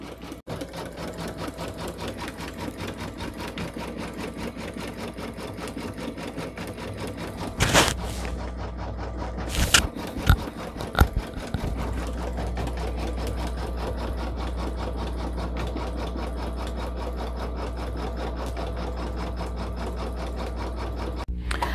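Embroidery machine running a nap tack (knock down) stitch, a continuous close rhythmic needle chatter throughout, briefly interrupted by a couple of sharp bursts midway, with no talking.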